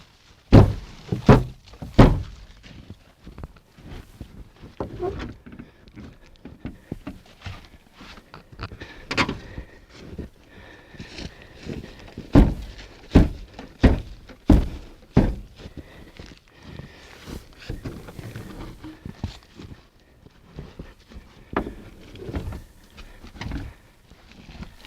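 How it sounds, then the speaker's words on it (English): Repeated heavy thunks and bangs on a car fender and door at an old auto parts yard, irregular blows and scrapes spread over the whole stretch, close and fairly loud, no talk. "I have to do a little body work on the fender so I can open the door."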